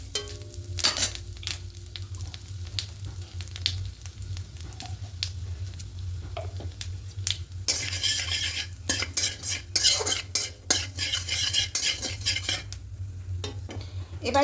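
Nigella seeds and asafoetida are stirred in hot ghee in a pan, with a gentle sizzle and repeated metallic scraping and clinking of a spoon over a steady low hum, growing busier toward the end.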